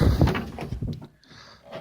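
The heavy door of a 1963.5 Ford Galaxie swings open with a low rumbling creak and clunk, followed by softer rattling at close range.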